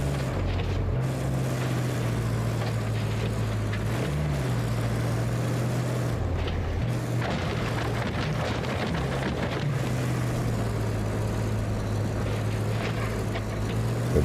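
A truck in a video game drives steadily, its engine a constant low droning hum with brief dips and shifts in pitch, mixed with windy rushing noise and a few creaks.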